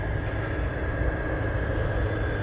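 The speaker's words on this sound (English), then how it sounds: "E175 taking off on 25 left." An Embraer E175 jet takes off from runway 25 left, a steady, broad engine roar with a constant whine, heard from a distance without pauses, no talking.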